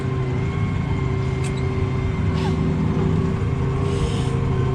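A New Holland tractor working a field in low gear during subsoiling, its diesel engine a steady, close drone with a constant low hum throughout and no voices.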